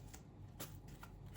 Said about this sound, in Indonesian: Aku ambil 2 kartu lagi dari sini ya.